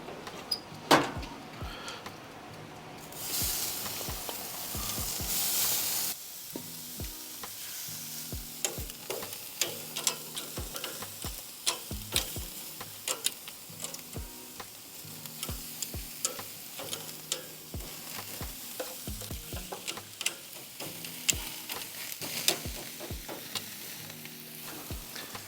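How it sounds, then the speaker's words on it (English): Marinated lamb chops sizzle on a grill with a steady frying hiss, broken by sharp clicks and taps of tongs and utensils up close. "We're gonna throw these on the grill right now"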